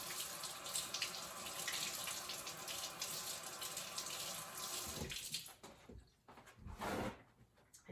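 Red vegetables are washed under a running tap, a steady stream of water for several seconds, then broken splashing and trickling as the flow is interrupted.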